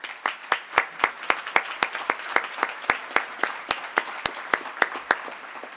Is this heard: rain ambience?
no